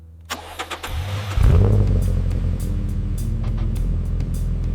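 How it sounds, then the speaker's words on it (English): A restored Toyota Supra's engine cranks with a few quick turns, catches with a loud roar, then settles into a steady, close idle. "Silence, ignition. The engine comes alive."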